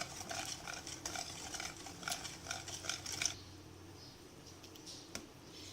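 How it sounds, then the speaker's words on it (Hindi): Boiled, shredded chicken is mixed into a Russian-style salad with a spoon, giving a run of close, moist scraping and clinking strokes for about three seconds. The stirring then stops and only a faint room hush remains. "अब इसमें बॉईल किया हुआ और श्रेड किया हुआ चिकन डालेंगे। इसको मिक्स करेंगे।"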